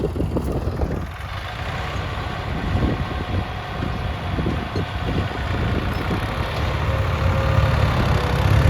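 A steady low tractor engine rumble runs throughout, a heavy motor idling nearby with a constant drone and no talking.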